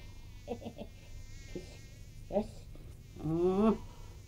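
Flies buzz close by in short, separate bursts, a thin whine that comes and goes, ending in a longer, louder drone.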